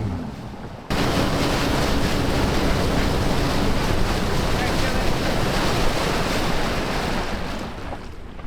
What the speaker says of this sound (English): With the wings bouncing along the waves, I brought the throttle back and slowed the plane down.